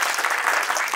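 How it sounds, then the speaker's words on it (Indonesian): A stand-up comedy audience applauds loudly in a dense, continuous burst of clapping that fills the whole brief moment. "tepuk tangan dong"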